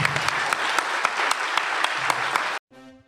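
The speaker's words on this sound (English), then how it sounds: "how about a big applause for Jay to thank him" A convention panel audience at Farpoint gives dense, loud applause with scattered sharp claps for a panel guest, sustained for a few seconds before cutting off abruptly into a short musical tone.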